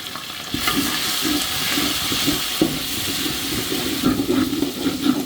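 Biryani masala with ginger-garlic paste and nut paste frying in a pan, a continuous loud sizzle close by with soft stirring scrapes, and nobody speaking.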